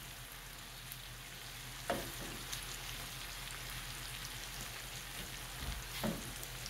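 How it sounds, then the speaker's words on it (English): Garlic shrimp scampi frying in a pan gives a steady, moderate sizzle with a few louder crackles and stir clatters, close by and with no talking. "Just let it all sizzle up."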